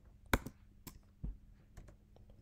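A few sparse, crisp clicks of keys being typed on a computer keyboard, quiet and close with uneven gaps between presses.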